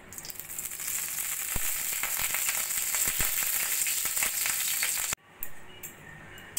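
A little ghee sizzling in a hot kadai, a loud, steady hiss and crackle with scattered pops that cuts off abruptly near the end, then faint remnants, no one speaking.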